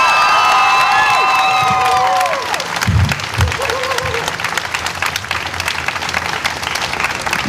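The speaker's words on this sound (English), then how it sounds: "Let's give them a big round of applause." A crowd at an outdoor rally for reproductive rights outside county government buildings applauds and cheers, dense clapping with whoops and shouts; a whistle-like tone sweeps over the start and the noise stays loud throughout.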